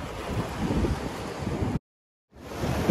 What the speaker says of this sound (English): It is a cold, windy day down under.